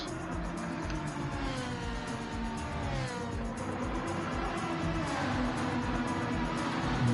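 GT1 race cars including a Pagani, Ferrari and Lamborghini roar around the Grand Valley circuit in a racing game, a continuous engine drone with shifting pitch that stays steady and fairly loud with no break.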